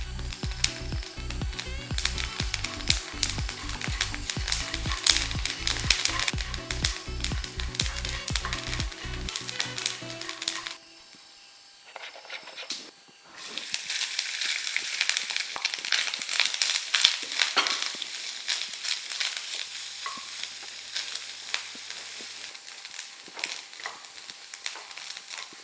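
Grated coconut roasts in a pan for a home-style mushroom curry, making a busy sizzle with scraping and stirring. A brief quiet gap falls midway, then the frying and stirring resume at a close, moderate level.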